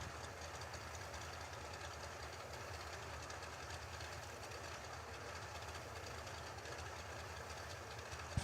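Drag racing engines at a drag strip, including a blown yellow dragster and a naturally aspirated dragster: a steady, dense roar with no break, heard from a distance and ending in a sharp pop.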